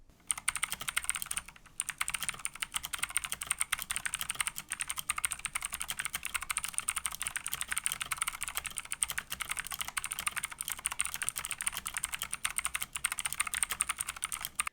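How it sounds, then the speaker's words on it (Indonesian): Fast, continuous typing on a Sades Rebellion full-size mechanical keyboard with blue switches, a close, crisp clatter of rapid clicky keystrokes that runs unbroken apart from one brief pause near the start. "Dan berikut typing test dari Sades Rebellion."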